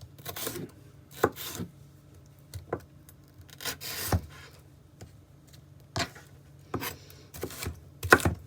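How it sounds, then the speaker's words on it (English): A knife chops pepper on a cutting board in sparse, irregular taps and scrapes, close and quiet, with no talking. "Cut up a little bit of pepper."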